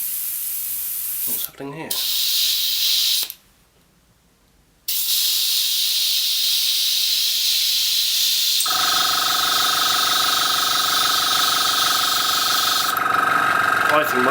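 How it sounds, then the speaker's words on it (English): An airbrush sprays paint onto a scratch-built TARDIS model with a steady, bright hiss that cuts out briefly and resumes. A humming, buzzing compressor joins partway through, and a voice speaks briefly early on. "My airbrush does seem a bit cocked, but let's just carry on."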